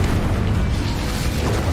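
A Confringo blasting spell goes off in Hogwarts Legacy, a dense, loud, continuous boom filling the whole moment with heavy low rumble and no pause or talk.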